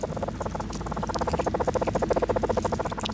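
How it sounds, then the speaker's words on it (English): Amplified rattle of a caterpillar demanding food from its attendant ants, a rapid, steady train of dry buzzing pulses, close and insistent, running throughout with no voices. "This amplified rattle is the sound of the caterpillar demanding to be fed."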